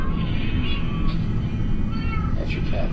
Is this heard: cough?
no